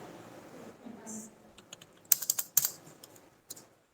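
Keys clack on a computer keyboard during data entry in Tally accounting software, a scattering of light taps followed by a few louder, sharper keystrokes, close up, with a faint voice murmuring at the start.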